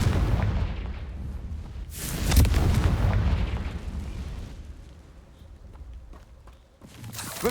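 A Confringo fire spell bursts in Hogwarts Legacy, a loud, close blast around the two-second mark with a rumbling tail over steady battle noise, followed by quieter impacts and a second burst at the end.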